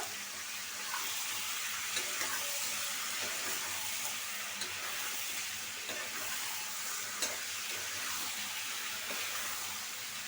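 Steady, close sizzling of chicken and potatoes frying together in hot oil, a continuous crackling hiss with occasional louder pops and no talking.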